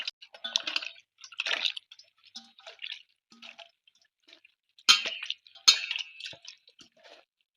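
Chicken pieces being washed with turmeric water, giving scattered close splashes, drips and handling noises in short bursts with two louder sloshes near the end.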